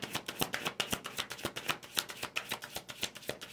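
Tarot cards being shuffled by hand, a quick rapid riffling and slapping of the deck in a steady close rhythm, heard alone and fairly soft.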